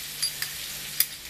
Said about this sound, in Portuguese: Para fritar o alho